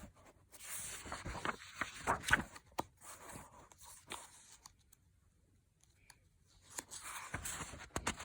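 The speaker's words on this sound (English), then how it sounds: "Page turning is a bit difficult." Pages of a picture book being turned during a read-aloud, quiet papery rustles and soft flicks spread across the moment with no talking.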